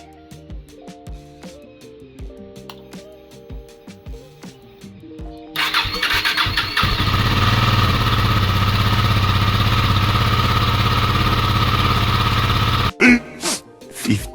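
A KTM Duke 250 motorcycle cranks and fires up after an engine oil flush during a DIY service, then settles into a loud, steady idle close by for several seconds before shutting off, with faint clicks and tapping beforehand.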